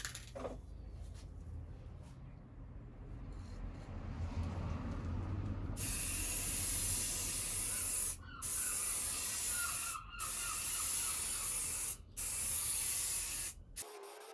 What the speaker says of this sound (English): we're going to press on with 3 coats of the primer